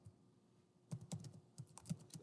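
Keys clack on a computer keyboard as someone types during a software coding session: a soft, fairly close, irregular run of taps that picks up after about a second, with no talking.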